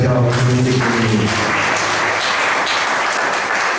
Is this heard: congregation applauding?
yes